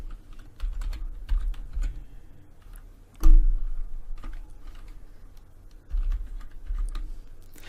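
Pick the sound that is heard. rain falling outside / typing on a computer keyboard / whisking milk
typing on a computer keyboard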